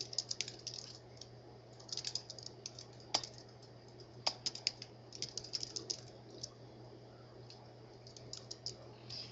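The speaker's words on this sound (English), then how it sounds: "we're going to type in another line" Someone types on a computer keyboard, producing quiet, irregular bursts of key clicks over a steady low hum.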